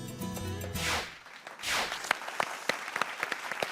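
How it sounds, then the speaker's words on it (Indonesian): A studio audience on a television talk show claps for a guest, with scattered distinct claps building after a music sting fades, fairly quiet overall. "Tepuk tangannya untuk Mbak Kristi yang sudah di sini bersama kita."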